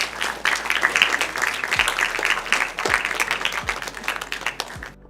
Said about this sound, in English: Doctor deserves a bigger round of applause